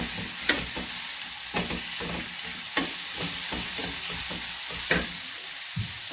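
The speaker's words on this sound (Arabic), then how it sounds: "من بعد ما تشحرات شويه البصله غادي نضيف عليها الفلفله" Onion and pepper fry in a pan with a constant crackling sizzle, punctuated every second or so by the scrape and tap of a spoon stirring.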